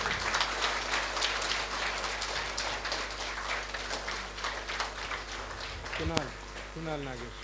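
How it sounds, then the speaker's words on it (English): Dense, steady clapping from the audience at a Bhagavad Gita Value Empowerment Contest prize distribution, sustained throughout, with a few brief whistle-like tones near the end. "Little louder applause."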